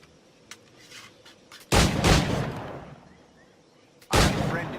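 Musket shots in Assassin's Creed IV Black Flag: two loud, booming reports a couple of seconds apart, each with a long rumbling decay, over quiet background ambience with a few faint clicks before them.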